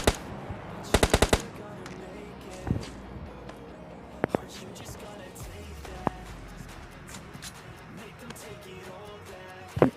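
Gunfire in the mobile battle-royale game PUBG Lite: a fast burst of automatic shots near the start, then scattered single cracks, heard over low game ambience and faint footsteps.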